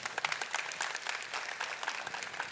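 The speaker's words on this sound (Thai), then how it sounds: "ปรบมือให้กับสปอนเซอร์เราหน่อยครับ" An audience at a live sound-industry talk event claps for the sponsors, a sustained patter of many hands, moderately distant and fairly quiet throughout.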